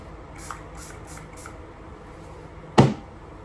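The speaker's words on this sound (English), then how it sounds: "I use a setting spray because it does a really good job" Makeup setting spray lets out one short, close, sharp burst of mist after several faint hissy puffs.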